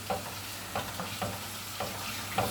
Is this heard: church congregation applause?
no